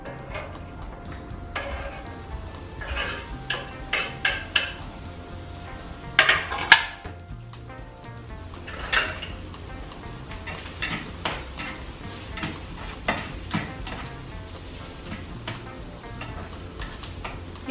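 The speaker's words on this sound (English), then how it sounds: "You're just going to lightly toss the mushrooms around." Mushrooms being tossed in butter in a frying pan, with a faint sizzle under scattered utensil taps, scrapes and clinks of pan stirring, irregular and close, no talk.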